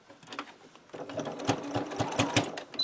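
A sewing machine stitches fabric back and forth on a paw holder, its motor whirring at close range in steady rapid bursts that speed up and pause as the seam reverses.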